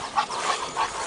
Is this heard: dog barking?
yes